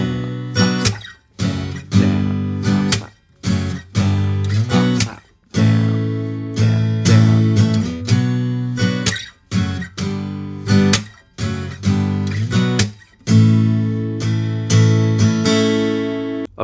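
Guitar strums a main riff with strong, close, ringing chords in repeated rhythmic bursts and short pauses between phrases, with no voices.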